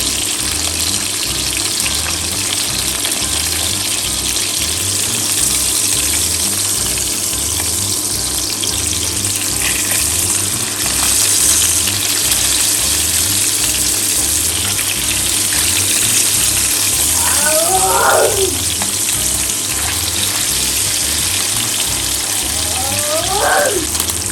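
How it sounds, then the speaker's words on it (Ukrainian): A salmon fillet fries skin-side down, pressed flat in a hot oiled pan, making a constant loud hiss of frying over a low steady hum, with a couple of faint brief chirps. "Пригортаю, притискаю і тримаю, допоки зажариться скоринка, шкірка, щоб вона натягнула наше філе."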